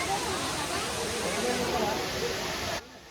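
Abbey Falls waterfall rushing as a dense, steady roar of falling water close by, cutting off sharply near the end, with no clear talk over it.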